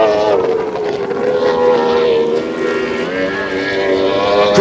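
A loud racing powerboat engine, a 2700 Mono class boat, roars and drones steadily on the water, its pitch rising and dipping slightly, with wind noise buffeting the microphone.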